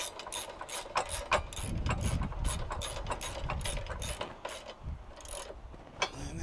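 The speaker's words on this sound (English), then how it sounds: "Tighten down this factory bolt." A ratchet wrench cranks a factory bolt tight on slider steps fitted to a Jeep JK Rubicon, with rapid repeated metallic clicks in bursts, close up, pausing briefly before a last few clicks, and no talking.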